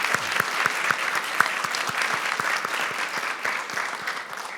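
Audience applause fills the hall at an award ceremony, the 18th Ilsong Prize presentation, a dense, sustained ovation of many hands clapping at close range with no voices over it.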